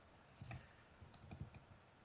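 A few faint keystrokes on a computer keyboard, a short uneven burst of soft clicks heard quietly and alone, with no speech.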